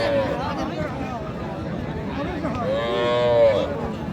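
Cows mooing twice, long low calls, amid the chatter and babble of a busy crowd at a cattle market in Raniganj.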